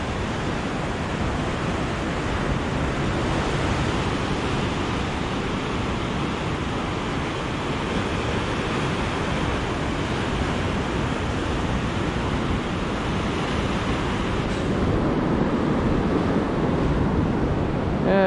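Sea water surges steadily through a crawl space in the Glentana Caves, a loud, continuous rushing roar that swells slightly near the end.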